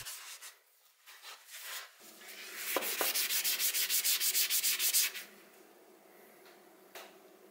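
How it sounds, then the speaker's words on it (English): A Scotch-Brite pad rubs briskly across a two-stroke expansion chamber pipe after rust removal, a rapid run of rhythmic scrubbing strokes in the middle, with a few lighter scrapes before and after. "I took some super clean and a Scotch-Brite pad to the pipe and it cleaned up really well"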